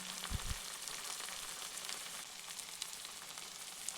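Chili powder, Kashmiri chili, cumin and coriander powder fry in a pan for a wedding-style matar paneer, giving a steady close sizzle with a couple of soft stirring thumps near the start.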